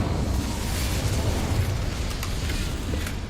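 An Incendio fire spell cast in Hogwarts Legacy gives a steady, roaring whoosh of flame that holds at an even loudness with no breaks.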